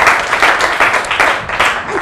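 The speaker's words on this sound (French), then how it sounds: "Merci beaucoup, applaudissez très fort." Audience applause at a children's school event, a short burst of loud, steady clapping from a crowd.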